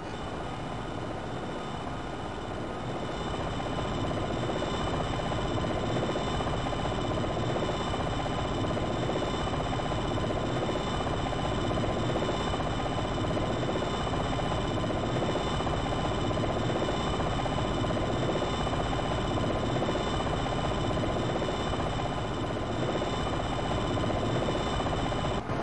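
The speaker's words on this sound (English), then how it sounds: "This will cause the rotor blades to take a large bite into the air, drastically slowing the chopper down." An AH-64D Longbow attack helicopter's rotor and turbine drone steadily in Jane's flight simulator game, a loud, continuous whine with a rhythmic rotor thrum that swells slightly after the first few seconds and then holds.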